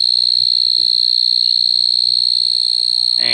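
A loud, continuous high-pitched cricket chirring, steady and close, with a faint rustle near the end.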